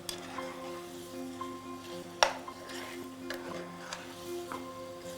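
Browned paneer tikka pieces are tossed in a pan, a soft sizzle under quiet scraping and a sharp metallic clink near the middle, with a few lighter utensil taps after it.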